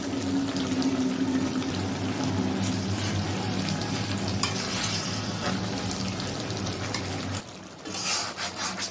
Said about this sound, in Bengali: নাড়াচাড়া দিয়ে দিলাম।